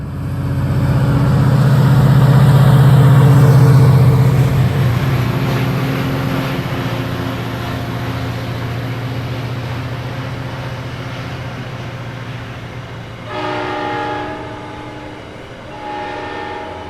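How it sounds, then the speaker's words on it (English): A VRE commuter train bound for Manassas accelerates past through a park, opening with a loud, close horn blast, then a steady rolling rumble of wagons that fades slightly, with a second shorter horn sounding near the end. "Another VRE train, this time bound for Manassas, accelerates through the park."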